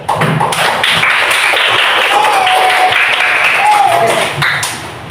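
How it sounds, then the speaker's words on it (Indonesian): Classroom of students clapping their hands together, a loud, dense, steady burst of applause lasting several seconds before tapering off at the end. "kita tepuk tangan dulu."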